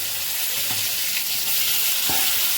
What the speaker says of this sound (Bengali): সবার আগে যেটা করবো সেটা টমেটোগুলো ভাজবো